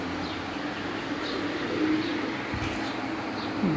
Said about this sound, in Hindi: ये भी उस्ताद अकमल ख़ान के दिए हुए कबूतरों में से है जी